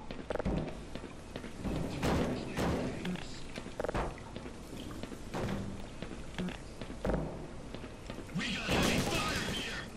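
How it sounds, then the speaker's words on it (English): Heavy gunfire from marines in the video game Black Mesa: repeated loud bursts and thumping shots in an irregular rhythm, mixed with game noise and a voice talking over much of it. "Heavy fire."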